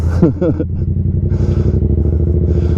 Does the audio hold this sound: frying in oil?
no